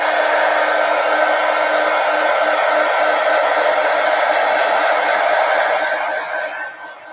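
Hair dryer blowing on a collage page in an altered book, a loud, steady close-up whoosh with a constant motor whine that tapers off as it is switched off at the end.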